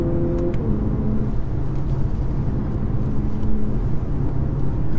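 A 2022 Lexus UX250h hybrid compact SUV drives along a road at speed, its steady low engine and road rumble filling the cabin continuously with no talk.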